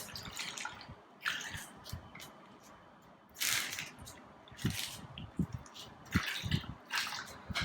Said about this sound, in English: Fill around 1/5 of the bag with water.